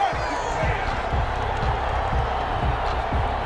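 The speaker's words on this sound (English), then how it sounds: "Some boos coming down right now from this home crowd after that call" Home crowd at a football game booing a pass interference call, a steady, broad roar of disapproval filling the stadium throughout, with faint thumps underneath.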